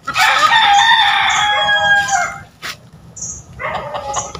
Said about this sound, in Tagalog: Magbahog po tayo ng mga manok